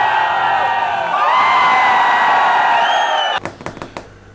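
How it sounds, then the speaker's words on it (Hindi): A loud crowd hoots and cheers in a sustained, high-pitched roar of whoops and shouts, which breaks off abruptly into a few sharp knocks and thumps. "और उसके बाद क्या हूटिंग हुई बॉस।"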